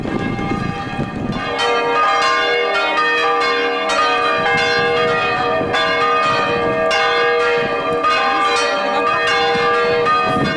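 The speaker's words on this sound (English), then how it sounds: "the bells once again pealed out" Church bells peal out loudly and close, overlapping strikes ringing in a continuous cascade with lingering resonance for about ten seconds, with no talk over them.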